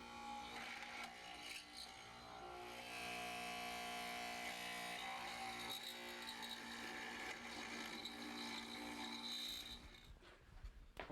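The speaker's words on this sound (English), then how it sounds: "We start by making the stop mortises for our stretchers, cutting away adjacent sections until we get the length we need." A mortising machine cuts stop mortises in wood for stretchers, a steady loud mechanical whir and grind that runs continuously before winding down near the end.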